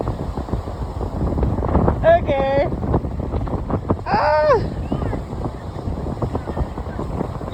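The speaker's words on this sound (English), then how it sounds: "Oh my gosh, it's so windy!" Strong wind buffets the microphone with a constant roar, while a couple of brief excited voices cut through near the middle.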